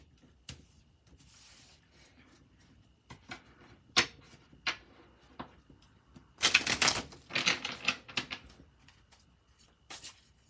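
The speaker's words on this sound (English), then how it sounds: "let's shuffle these cards." Tarot cards being shuffled by hand, heard as soft scattered taps and clicks that build into a brief denser riffle, faint against a quiet room.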